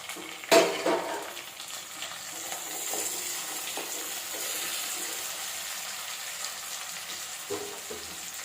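Onions and tomatoes sautéing in a pan give a soft, steady sizzle, with a sharp clatter near the start and faint stirring scrapes throughout.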